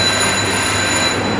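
A Wurlitzer theatre organ's train sound effect gives a loud, continuous rushing rumble with faint steady whistle-like tones riding above it, unbroken for the whole short stretch.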